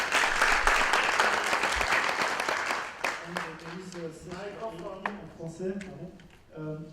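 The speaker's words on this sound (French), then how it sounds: "Nous pouvons l'applaudir." A conference audience applauds a keynote speaker, a dense burst of clapping for about three seconds that thins to scattered claps as a voice begins talking over the tail.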